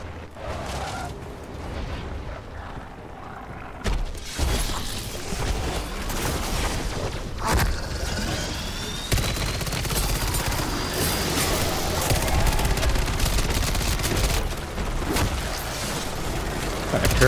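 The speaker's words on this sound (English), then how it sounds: "Turret going, I got a mangler fighting for me, it was fantastic." Automatic turret fire in the zombies mode of the video game Call of Duty MWZ, a dense, continuous clatter of rapid shots and booms that runs loudly through the whole stretch of combat.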